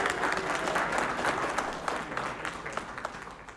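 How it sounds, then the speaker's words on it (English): Audience applause at a Darwin Day celebration in Sacramento, a steady dense wash of many hands clapping that carries through the whole stretch and thins slightly toward the end. "Let's get some applause."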